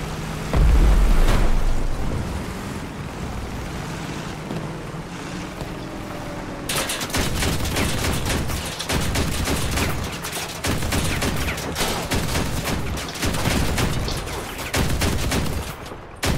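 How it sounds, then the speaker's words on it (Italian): An automatic cannon in the vehicle combat game Crossout fires steady rapid bursts of loud, close shots over a rumbling engine and wind-like roar, with one heavy thump near the start. "sono più preciso con questo cannone automatico"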